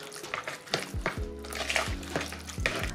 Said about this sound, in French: Je viens mélanger une première fois ce mélange